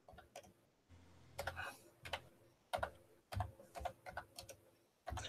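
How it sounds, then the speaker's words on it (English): Someone types on a laptop keyboard at a tabletop game session. The keys click in quick, uneven bursts with short pauses between them, close and fairly soft. "I'm sorry that the typing's that loud"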